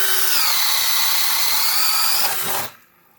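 A Bosch Daredevil spade bit bores through wood under a power drill, a steady close whine for a couple of seconds that then slows and cuts off as the drill stops.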